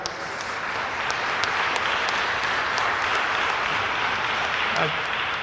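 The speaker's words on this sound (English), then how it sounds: "then we give them an applause" Steady, dense applause from a crowd at a junior police graduation ceremony in Linden, clapping continuously and evenly throughout at close, fairly loud level.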